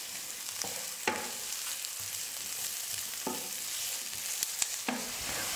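Onions frying in hot oil while being stirred for a mutton kulambu, a steady close sizzle broken by several sharp scraping stirs of a spoon against the pan.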